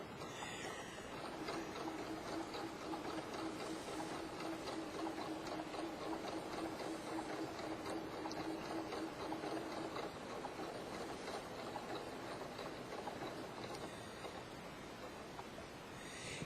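A sewing machine stitches a pocket onto a hoodie jacket, running in a steady, even mechanical whir close by for a long stretch before slowing near the end.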